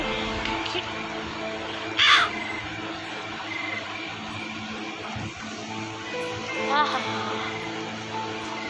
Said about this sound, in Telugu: కాకి